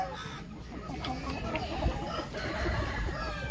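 Desi chickens and roosters at a village poultry market cluck repeatedly, with a rooster crowing among them, close and steady over a busy outdoor background.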